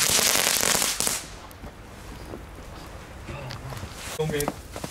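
Firecrackers set off outdoors in the snow, a dense burst of crackling pops at the start fading to scattered bangs, with people talking nearby.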